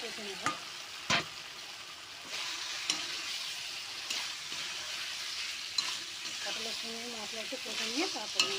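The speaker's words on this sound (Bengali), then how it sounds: "অল্প একটু চিনি দিলাম আর পটল ভাজাগুলোও দিয়ে দেবো মশলা নিয়ে" Fried pointed gourd pieces go into a sizzling spice paste with a pinch of sugar and are stirred. A steady close frying hiss runs under sharp spoon scrapes against the pan, and a voice is faintly heard near the end.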